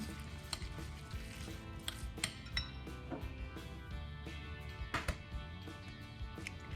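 A spoon scrapes and clinks in a bowl while stirring a marinade of salt, oyster sauce and rice wine, soft irregular taps over a faint background hiss.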